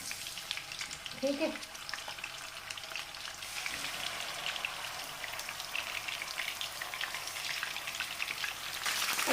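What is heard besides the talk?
chicken frying in oil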